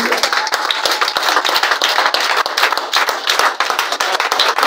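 A church congregation claps in fast, steady rhythm, many hands together in a lively, loud, continuous burst of clapping.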